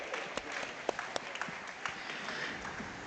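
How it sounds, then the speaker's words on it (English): A crowd applauds at an FFA feeder calf and market beef show at the Nebraska State Fair, steady clapping with a few sharper individual claps standing out near the front. "Let's give these kids a nice round of applause."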